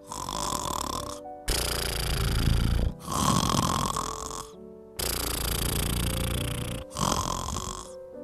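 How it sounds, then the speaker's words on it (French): Loud, rasping snores come in long bursts, five drawn-out rumbling breaths separated by brief silences, close and harsh. "il s'est mis à ronfler très très fort"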